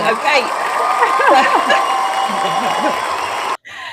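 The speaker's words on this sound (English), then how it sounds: "Where's the clapping?" A clapping and cheering sound effect plays during a podcast, a dense burst of crowd applause with voices talking over it, cutting off abruptly near the end.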